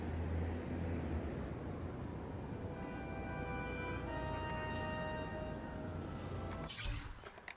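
A truck idles and rumbles in The Amazing Spider-Man 2 game, a steady engine drone that ends in a sharp hissing air-brake release near the end.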